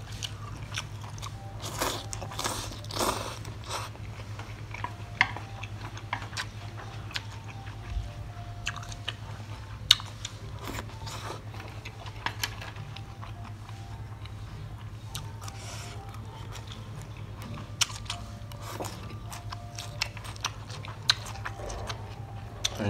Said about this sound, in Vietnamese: Heo quay nãy mình mua ngay cái xương non á, cắn ra rốt rốt rốt luôn.